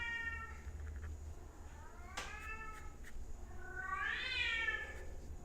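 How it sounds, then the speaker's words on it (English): A house cat meows a few times indoors, the calls rising and falling in pitch and growing louder toward the end, over a quiet low room hum. "Come on, cat."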